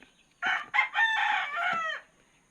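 A rooster crows once, close and loud, a drawn-out call of about a second and a half against a quiet background.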